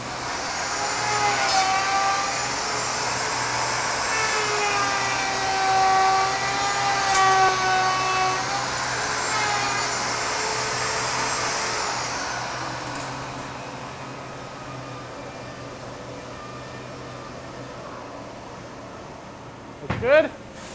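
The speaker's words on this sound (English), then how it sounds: "now that neck is coming up to get that dovetail cut out and matched up to a body" A CNC machine at the Larrivee guitar factory in Vancouver cuts a dovetail joint into a guitar neck, giving a steady loud whirring and grinding hum that fades near the end before a brief sharp knock.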